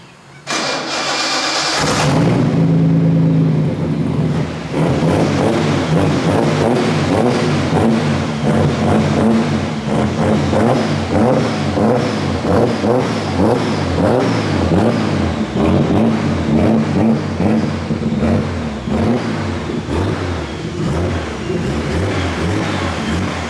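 A Datsun car engine cranks and catches, then settles into a loud, steady mid-pitched run with repeated revs rising and falling close by.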